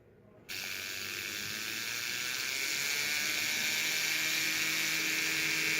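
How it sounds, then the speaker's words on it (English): A tapered cylinder burr grinds a 14k yellow gold ring: the rotary tool switches on abruptly, then holds a steady high-pitched whine with faint scraping, growing slightly louder over a few seconds. "I'm going to go ahead and use a tapered cylinder burr."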